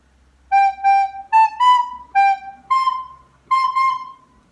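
Soprano recorder playing the final phrase of a song as eight clear, evenly spaced notes in two matching groups, alone with no talking.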